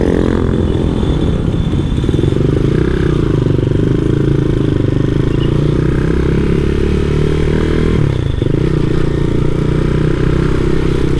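A Honda Monkey motorcycle bored up to 181 cc idles close by, a loud steady low bass thrum with a brief dip around the eight-second mark, no talking.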